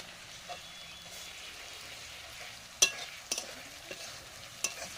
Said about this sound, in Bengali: পেঁয়াজ এতটা কষানো হয়ে গেছে, এবার রসুন দিয়ে দিচ্ছি।